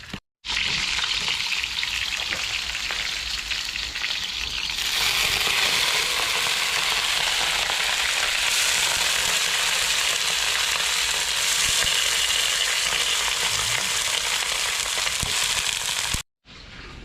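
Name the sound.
fish frying in a pan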